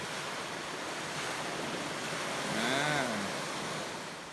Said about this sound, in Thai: ว้าวนะครับว้าวนะครับทะเลนะครับ